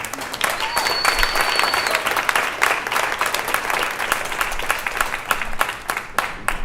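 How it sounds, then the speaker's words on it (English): Sustained audience applause at a poets club reading, dense and steady throughout with scattered cheers and voices mixed in, fairly loud and close. "Give yourselves a round of applause for being dope as fuck."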